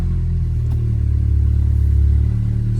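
A Volkswagen Golf R 2.0 TSI with a Milltek sports cat runs just after starting, giving a loud, steady, low rumble at close range that swells slightly as the idle settles.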